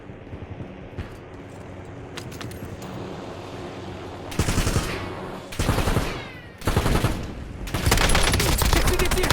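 Gunfire in Warzone starts as distant scattered pops, then breaks into loud, close automatic bursts in three or four sustained volleys, separated by brief pauses.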